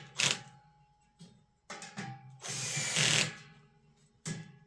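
Bolts on a wooden garden bench being tightened with a power drill or ratchet, heard as several short mechanical bursts and one longer whirring run, close and fairly loud with pauses between.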